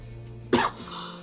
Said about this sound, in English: I coughed into like a hiccup